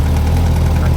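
A Suzuki GSX-S1000 motorcycle engine running after an easy push-button start, a loud, close, steady low rumble with constant vibration and no pauses or voices.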